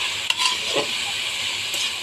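Vegetables sizzle steadily in a hot pan for fried rice, with a soft scrape of stirring partway through.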